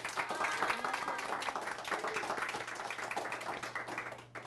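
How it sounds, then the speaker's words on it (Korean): An audience at a Korean talk event applauds to welcome a guest onstage, many hands clapping in a steady, even patter that holds for several seconds before fading. "큰 박수로 맞이해 주시기 바랍니다."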